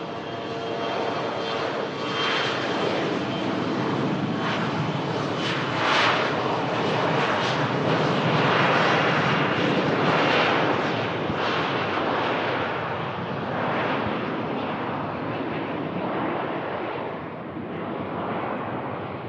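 Scandinavian jet airliner taking off from Manchester Airport on a rolling start and climbing out toward Copenhagen, a loud, sustained engine roar with crackling rumble that swells and then gradually eases as it departs.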